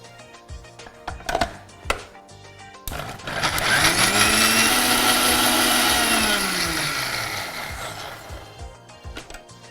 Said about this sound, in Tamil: இதை வந்து மிக்சியில் போட்டு அரைச்சிக்கலாம்